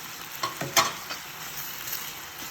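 Capsicum chutney ingredients and coriander stems cooking in a pan, a steady sizzle of frying with a few scraping stirs near the start, close and alone.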